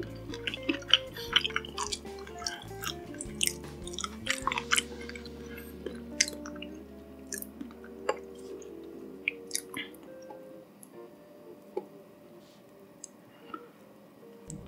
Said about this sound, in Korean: 크리밍 어니언 소스 찍어 먹을게요